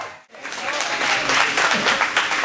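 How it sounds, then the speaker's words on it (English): An audience at a line dance cancer awareness event breaks into loud, sustained applause, a dense wash of clapping that swells quickly after a brief pause and continues steadily, with some voices mixed in. "give a real good round of applause"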